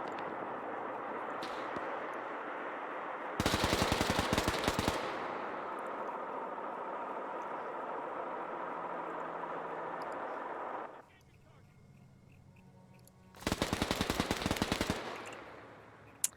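Automatic weapon fire in the Arma 3 video game, two loud bursts of rapid shots a few seconds long, set against a steady background rumble of battle ambience.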